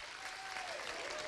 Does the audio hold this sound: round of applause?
yes